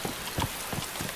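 Rain falls over a town in the survival game DayZ, a continuous soft patter of drops on surfaces, brief and alone with no voices.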